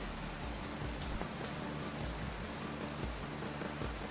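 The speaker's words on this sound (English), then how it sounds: "Ah, but there's no sun. It's raining." Steady rain pours down in a video game, a dense, even hiss of falling drops holding level throughout with no voices over it.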